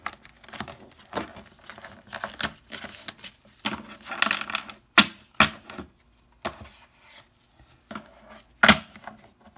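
Quick papery riffles and soft taps of cards being shuffled, irregular bursts with short pauses, close by with no talking.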